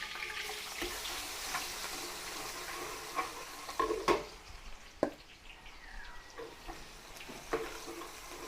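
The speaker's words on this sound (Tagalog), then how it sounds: "Luto-lutoy lang po natin yung ating bawang." Garlic sautéing in homemade annatto oil for Filipino kare-kare, a soft continuous sizzle with occasional sharp spoon-and-pan clinks and stirring scrapes, no voices.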